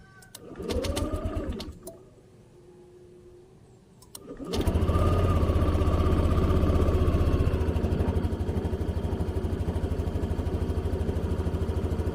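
A Yamaha Aerox scooter cranks and starts, then settles into a steady, close idle with a buzzing, pulsing engine note. Short cranking bursts and a quieter gap come first, and no one talks.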